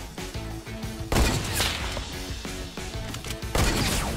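Gunfire in Fortnite Battle Royale: several loud, close shots and crashes spaced a second or two apart over a busy game soundtrack with steady background tones.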